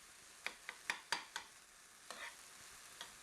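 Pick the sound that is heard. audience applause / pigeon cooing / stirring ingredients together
stirring ingredients together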